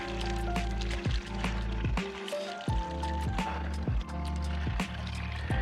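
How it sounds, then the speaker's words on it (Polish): Water gurgles and splashes steadily as it is poured from a bucket into a watering can, with a few brief hollow knocks partway through. "I tą wodę wleję do konewki."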